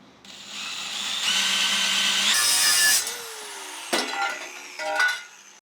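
A power tool cuts a small square out of a light aluminum plate while a DR650 motorcycle is being customized, a loud, steady grinding whine lasting a few seconds, then a few shorter bursts as the cut finishes.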